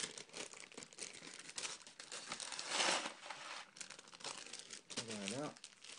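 A plastic LEGO polybag for a Star Wars ARC-170 Starfighter is crinkled and torn open close up, with a steady papery rustle that swells midway, and someone speaks briefly near the end.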